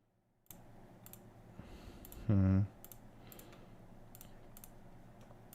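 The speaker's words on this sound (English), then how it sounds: "so I'm clicking in the game" Mouse clicks during a video game, a series of sharp, evenly spaced taps against game sound, with a brief loud tone partway through and a voice faintly present.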